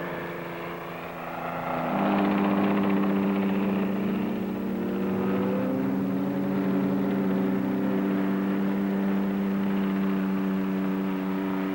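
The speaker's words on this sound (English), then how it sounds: "And the Whirlwind, the Navy's familiar chopper" A Westland Whirlwind Navy helicopter flies at a Farnborough air show, its loud droning engine and rotor swelling in and holding steady with shifting tonal whine, heard from a moderate distance without talk.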